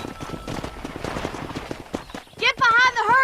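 A horse in Red Dead Redemption clip-clops at a steady trot, hooves thudding close, then gives a loud, wavering whinny, with a voice briefly heard under the hoofbeats.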